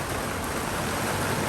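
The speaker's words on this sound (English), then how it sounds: "It is pouring." Heavy rain pours down steadily beside a covered resort patio, a dense, loud, unbroken hiss with no pauses or voices.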